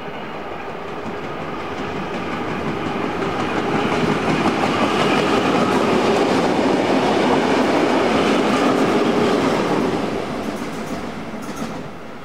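Tait heritage electric suburban train passing close, a steady broadband rumble of wheels and motors that swells to a peak in the middle and then fades slightly as it moves on, with no talk.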